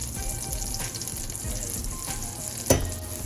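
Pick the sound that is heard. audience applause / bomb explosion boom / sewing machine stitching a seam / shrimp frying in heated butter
shrimp frying in heated butter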